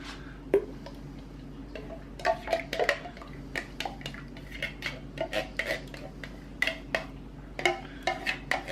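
A metal spoon clinks and taps against dishes and cutlery in a home kitchen while making chili, with a string of sharp, close, irregular clicks and rattles and no talking.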